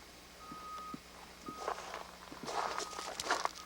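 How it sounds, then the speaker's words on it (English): Footsteps crunch through loose desert gravel among sagebrush and tumbleweed behind a bank at the Rhyolite ghost town, a few uneven close steps growing louder, with a faint steady beep in the background. "It's loose gravel I'm stepping through, as you can tell."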